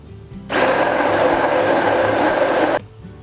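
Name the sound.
mixing vegan orange yogurt cake batter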